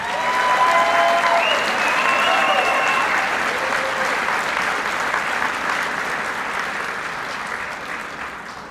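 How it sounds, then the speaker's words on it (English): A large round of applause for graduates at a Barton Community College Fort Riley commencement, dense clapping at full strength from the start that slowly fades, with faint whistles and cheers in the first seconds. "Let's give all of today's graduates a large round of applause."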